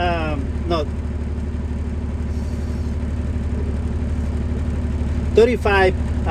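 A truck engine idles with a steady low rumble throughout, while a person speaks briefly over it at the start and near the end.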